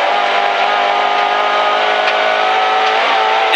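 A rally car engine revs loud and steady from inside the cabin during a competitive stage run at the Neste Jari-Pekka Ralli F-cup in Heinola, with a continuous high-revving roar and no break.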